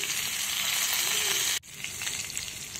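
Cumin seeds and finely chopped green chillies spluttering in hot oil, a loud, dense, close sizzle that briefly cuts out midway and then resumes.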